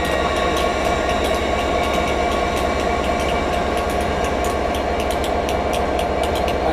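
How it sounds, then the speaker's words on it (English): A train rolls past steadily and loudly at Doncaster on the East Coast Main Line, wheels rumbling and clicking over the rails with a constant roar. "Well, that was your train."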